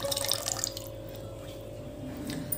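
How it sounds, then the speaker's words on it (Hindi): Rose water is poured into a falooda mixture, a soft, close liquid trickle and splash that runs quietly and continuously without any voices. "अब इसमें हम डाल देंगे रोज वाटर।"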